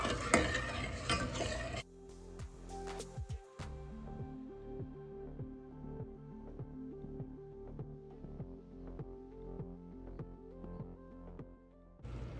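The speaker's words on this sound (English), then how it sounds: "I'm going to stir it for 1 to 2 minutes so that the pectin's dissolved." Boiling blueberry jam with pectin stirred in a pot, a steady rhythmic scraping and clinking of a spoon against the pot over a bubbling hiss, loud and close, continuing without talk.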